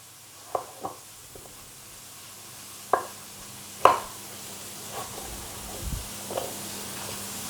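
Garlic and fresh ginger are chopped with a sharp knife, producing a handful of quiet, irregular taps on a cutting board, spaced apart with soft kitchen background between them.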